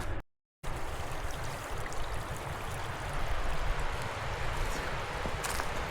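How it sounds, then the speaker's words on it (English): A creek swollen by flooding in Arkansas rushes steadily nearby, a dense continuous roar of moving water after a brief dropout at the start. "Getting pretty close to the creek."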